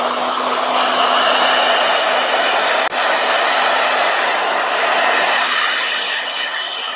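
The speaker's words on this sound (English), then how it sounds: "So, blow dryer." A blow dryer roars steadily and loudly for about seven seconds while drying a painted watercolor page in a thick-papered travel journal, with only a brief dip partway through.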